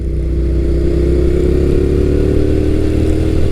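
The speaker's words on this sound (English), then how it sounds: "this one has that great sounding Yoshimura exhaust" A Suzuki SV650 naked middleweight motorcycle of the 2003-2008 second generation, fitted with a Yoshimura exhaust, revs steadily and loudly up close, its deep throbbing engine note continuous throughout with no talk.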